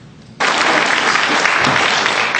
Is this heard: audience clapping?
yes